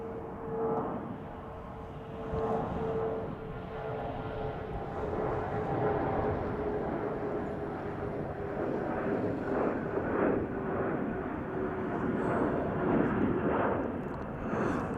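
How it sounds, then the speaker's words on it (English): A brand-new United Airbus A321neo arriving from Reagan National at Chicago O'Hare gives a sustained jet roar with a steady engine whine running through it, staying loud and broad for the whole stretch and swelling gradually toward the end. "this is United Flight 1888 from Reagan National, arriving on an Airbus A321neo"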